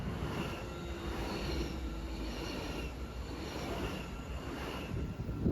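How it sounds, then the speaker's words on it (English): A train rumbles past nearby at the Rhine Falls with a loud, continuous roar of wheels on rails and rushing air, steady throughout. "Oh, it's actually in use. Here comes the train."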